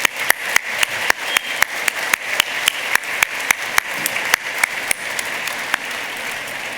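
Audience applause at a gala, steady and full, with sharp individual claps standing out from the crowd throughout.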